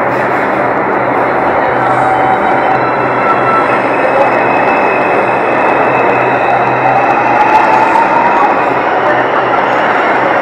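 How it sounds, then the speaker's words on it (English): A steady, loud rumble and roar of an R142 subway train leaving the station fills the space, with a faint rising whine and no clear pause or change throughout. "just gonna see this train leaving"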